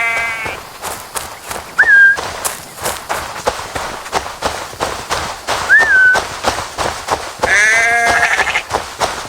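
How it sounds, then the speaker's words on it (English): Sheep bleating in Assassin's Creed Valhalla, a few distinct wavering bleats spaced across the scene amid footsteps and shuffling movement, close and clear with no talk. "The sheep follows my whistle."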